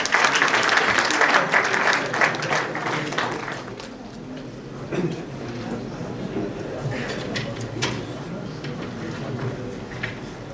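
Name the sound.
audience applause welcoming a speaker at a seminar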